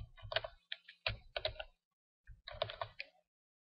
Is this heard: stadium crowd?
no